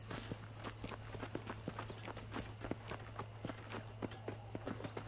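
Horse hooves clip-clopping in the Red Dead Redemption video game near McFarland's Ranch, a quick, steady rhythm of soft thuds repeating over a constant low hum, faint and fairly close, with no voice.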